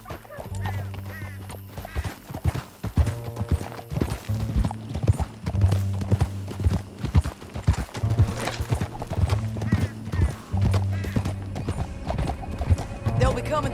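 Horse hooves clip-clop and gallop in a fast, steady rhythm in Red Dead Redemption 2 gameplay, with a whinny and a low droning music bed under intermittent talk.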